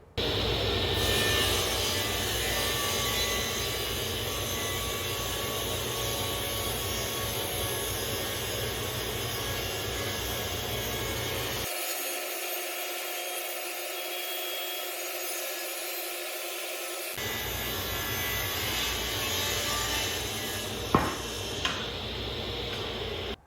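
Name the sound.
budget table saw cutting thick 8/4 hard maple board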